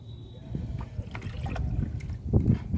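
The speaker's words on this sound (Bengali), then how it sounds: "হ্যাঁ এবার জল দিচ্ছি দেখো" Water is poured from a can onto freshly mixed soil in a potted Thai Allamanda plant, a close, steady trickle and splash that grows a little louder toward the end.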